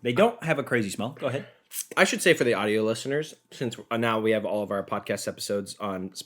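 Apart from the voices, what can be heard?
None of the usual background noises is heard.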